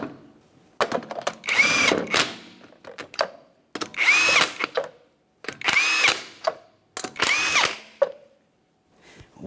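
A power tool spins on the 19mm lug nuts of a 1994-1997 Honda Accord wheel, four loud whirring bursts of about a second each, separated by pauses with light clatter, no talking.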